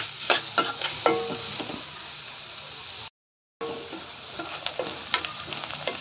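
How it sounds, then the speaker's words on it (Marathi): Chopped onion sautéing in a pan until reddish, producing a steady close sizzle with repeated scraping stir strokes, interrupted by a short silent gap before the frying resumes. "कांदा लालसर होईपर्यंत परतून घ्यायचा आहे"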